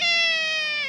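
A cat gives a single sustained meow, close and clear, lasting about a second with no talking over it.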